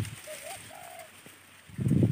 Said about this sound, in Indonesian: Kali ini saya mau nyanggung tekukur kawan di kebun Pak D. Taslam ya.